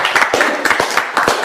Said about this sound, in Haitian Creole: Applaudissements pour Vete.